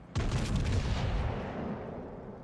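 The main guns of HMS Hood fire in a World of Warships naval battle: a single sudden, heavy boom, close and loud, followed by a long rumbling decay.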